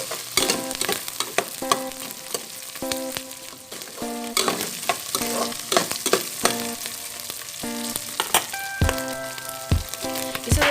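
Vegetables and tomato sauté in a pan for Ilocano malunggay buridibud, a continuous crackling sizzle punctuated by rhythmic clattering stirs of a utensil against the pan, close up, with faint tonal background music.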